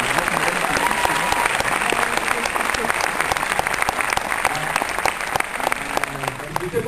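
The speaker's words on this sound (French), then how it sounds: "Vous pouvez l'applaudir." Audience applause fills a film debate for the French thriller À bout portant: dense, steady clapping from a sizeable crowd that holds at an even, loud level for the whole stretch without pause.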